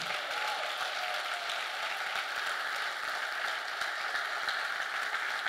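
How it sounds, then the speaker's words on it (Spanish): Applause from a church congregation during a Spanish-language sermon, a steady, fairly distant wash of many hands clapping that holds level without voices. "Le damos un aplauso a Jesús."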